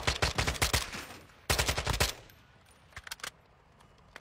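Automatic gunfire in Call of Duty: Modern Warfare II, two loud rapid bursts of close shots, followed by a few sparse, quieter single shots.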